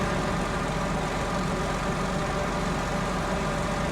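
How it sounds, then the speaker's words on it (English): A big truck engine from Snowrunner runs under heavy load, a steady, dense low rumble that holds constant and loud throughout with no talk over it. "Nice to hear that big engine putting down all its power."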